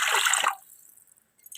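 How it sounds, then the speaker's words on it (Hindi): Water poured into a pot of fried beef for yakhni beef pulao, a short gushing splash that cuts off after about half a second, leaving near silence and a faint drip at the end. "और अब हम इसमें पानी शामिल करेंगे"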